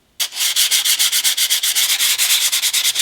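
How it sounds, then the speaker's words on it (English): 120-grit sandpaper rubs back and forth on a carbon fiber engine cover from a B7 RS4, giving loud, close, rhythmic rasping strokes at a steady quick pace, with no talking. "we're going to drop it down to 120 and see how that sandpaper works."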